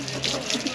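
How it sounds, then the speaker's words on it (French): Water spraying from a hose onto burnt wood at a fire site, a short hissing, splashing rush heard close and steady. "On arrose le bois pour être sûr qu'il n'y ait pas un feu qui couvre et qui se déclenche plus tard"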